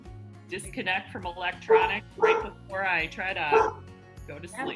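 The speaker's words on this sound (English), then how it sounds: "Sorry, that's my dog in the background." A dog barks and yips in the background, partly buried under a person talking in the foreground.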